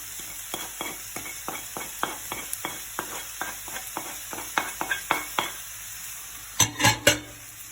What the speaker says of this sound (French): On va mélanger tout ça.